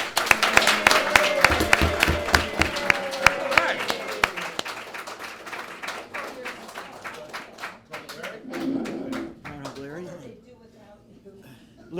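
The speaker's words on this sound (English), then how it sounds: "So we want a big round of applause for Larry Adelman" A studio audience applauds to welcome a guest. The clapping is loud and dense at first and thins out over several seconds, while a voice talks over it and continues after it fades.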